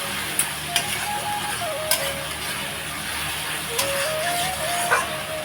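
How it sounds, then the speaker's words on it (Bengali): Spice paste for a fish gravy frying in a pan, giving a steady close hiss and sizzle with a few sharp clicks, while a soft tone rises and falls faintly in the background. "মাছগুলো ভেজে নিয়েছি আর এদিকে মশলা কষানো হচ্ছে"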